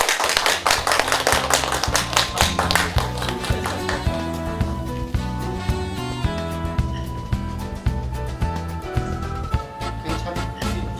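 A large group of seniors claps together at an MOU signing ceremony, sharp hand claps mixed with loud upbeat music that carries a strong steady beat and bright melodic lines throughout.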